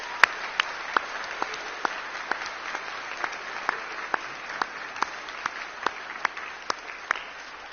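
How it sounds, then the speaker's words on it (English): Applause for the class of 2025 at an awards-day ceremony, steady crowd clapping at moderate volume with distinct louder individual claps standing out at regular intervals. "I would like for all of us to give the entire class of 2025 a round of applause"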